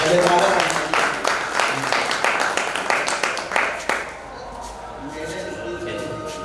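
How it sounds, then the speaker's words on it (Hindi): Audience applause at a Hindi book launch ceremony welcoming a maiden speech, dense clapping loud for about four seconds before thinning into a softer room murmur. "जोरदार तालियां"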